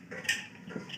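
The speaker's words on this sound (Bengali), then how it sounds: "কম দিয়ে আমি প্রেশার কুকারের ঢাকনা দিয়ে ঢেকে দিব।" A pressure cooker lid is set in place with a brief metallic clatter and a few light clicks in a quiet kitchen.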